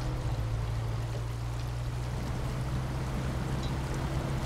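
A truck fords water in the off-road driving game SnowRunner, giving a steady, rushing splash and wash over a low engine drone, moderately loud and continuous with no talk.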